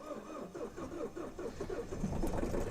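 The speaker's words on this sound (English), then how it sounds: "that's probably the worst my battery sounded on startup" A van engine cranks and struggles to start on a weak battery after a sudden power loss, with a slow, labored rhythmic churning that builds into a rougher rumble near the end. The sound is close and fairly loud, with no voices.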